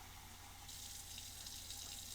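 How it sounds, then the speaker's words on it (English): Water runs steadily from a tap into a bowl for a pizza dough recipe, a soft continuous splashing rush that brightens slightly partway through, quiet and alone. "get 1 1/4 cups of water and put it into one bowl"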